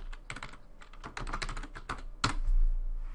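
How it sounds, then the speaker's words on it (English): Brisk typing of a name on a computer keyboard in a 3D modeling program's text tool, a close, dense patter of clicks ending in one sharper key press, heard alone. "I'm going to type my name."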